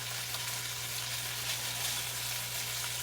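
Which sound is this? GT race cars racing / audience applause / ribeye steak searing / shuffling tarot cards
ribeye steak searing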